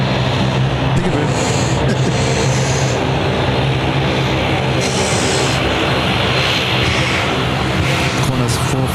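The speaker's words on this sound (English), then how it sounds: "There goes my favourite aircraft in the background." Passenger aircraft at Sydney Airport in the evening: a loud, steady jet engine roar throughout, broadband and continuous, with faint intermittent higher whines and occasional bursts of background activity.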